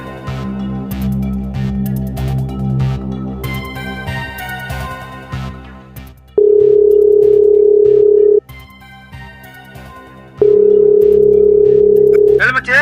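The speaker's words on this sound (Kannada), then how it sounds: "ಅರುಣಕ್ಕೆ ಫೋನ್ ಮಾಡ್ತೀನಿ, ಅವನಿಗೆ ಗೊತ್ತಿರುತ್ತೆ." A telephone line gives two long, steady dial-tone bursts while a call is being placed, each lasting a couple of seconds, following a stretch of background music and scattered sounds.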